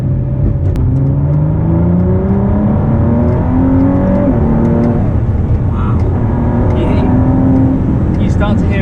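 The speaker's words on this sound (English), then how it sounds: "Start to hear more of the turbos as well." Inside a Ford GT under hard acceleration, the engine drones loudly and rises through successive gear pulls with turbo whoosh on top, while people talk over it toward the end.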